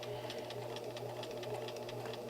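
Sewing machine back stitching a fabric dart: a quiet, steady rapid stitching rattle with a low motor hum, running continuously at close range without talk.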